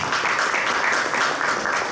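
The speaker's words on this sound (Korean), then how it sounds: "다시 한번 큰 박수 부탁드리겠습니다" An audience at a medical symposium applauds after a lecture, a steady wash of clapping from a full hall, brief and continuous, with no voices over it.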